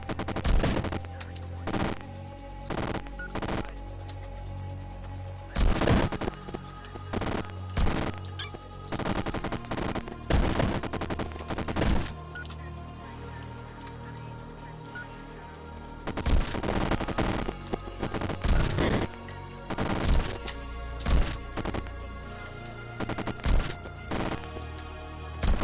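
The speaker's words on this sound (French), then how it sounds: "quand il y a beaucoup de tirs simultanés, ça" Many simultaneous gunshots crackle in the video game Neurovoider, dense rapid bursts of game gunfire repeating in loud clusters over a steady game soundtrack.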